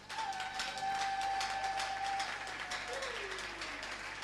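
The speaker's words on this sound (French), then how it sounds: "On acclame le Seigneur très fort." A congregation at an evangelical church gathering in Kinshasa applauds in a steady, dense roar of clapping, with a sustained whistle-like tone gliding above it, fairly loud throughout.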